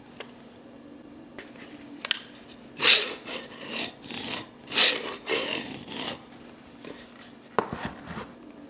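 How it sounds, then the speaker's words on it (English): A hard plastic plunger slides back and forth inside a handheld clay extruder tube, giving short scraping, rasping strokes with a few louder pushes, close and fairly quiet, with no voices. "The plunger is made of a hard plastic and pulls back and forth in the tube pretty easy."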